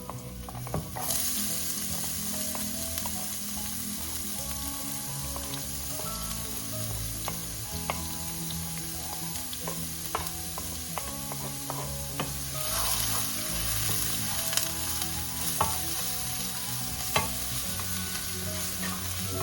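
Onions sizzle hard in hot oil while being stirred around a pan, with spatula scrapes and clicks over a continuous, loud fry.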